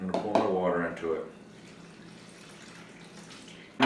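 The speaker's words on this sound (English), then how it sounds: "I'm going to pour my water into it" Water is poured into flour to make a sourdough starter, a short splashing pour at the start that fades into a quiet, still background.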